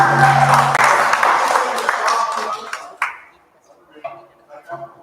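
An audience at a sobriety celebration claps and cheers for a performer, with applause dense and loud for about three seconds before thinning into scattered claps under talk.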